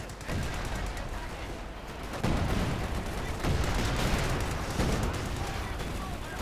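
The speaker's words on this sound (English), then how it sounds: "Austrian there taking heavy fire there from machine guns, getting shredded, murdered, massacred." Machine gun fire in the World War II strategy game Company of Heroes 2 during a 1v1 match, dense rattling bursts and booming hits filling the mix, with a voice talking over the din.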